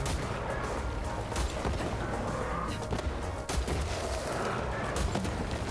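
Jakobs gun in Borderlands 3 firing ricocheting bullets, a run of sharp, close bangs and cracks over dense game noise and rumble, shots coming in quick irregular bursts.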